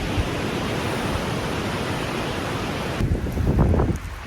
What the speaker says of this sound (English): Just out of nowhere, there's this massive wind.